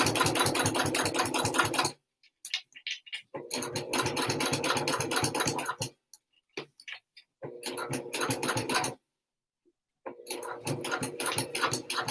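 A sewing machine stitches fabric for wristlets with a rapid, loud, buzzing run of stitches, stopping and starting in bursts separated by short silences.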